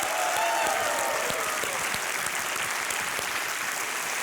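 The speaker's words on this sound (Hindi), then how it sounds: "तालियों के साथ हमारे कंटेस्टेंट का स्वागत किया जाए" Studio audience applause on a televised quiz show as contestants are welcomed for Fastest Finger First, a steady, dense wash of clapping filling the whole stretch at even loudness.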